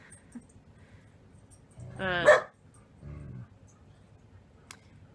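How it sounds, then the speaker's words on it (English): Dogs let out one loud, sharp bark midway, followed by a softer, shorter yip a second later, against a quiet background. "The dogs are being little miscreants."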